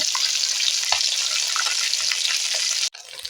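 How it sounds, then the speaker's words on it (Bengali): Puti fish sizzle in a pan of hot oil as they are turned, producing a continuous close crackling hiss that cuts off abruptly near the end, leaving a brief quieter moment. "মাছগুলোকে উল্টে পাল্টে ভেজে নেব"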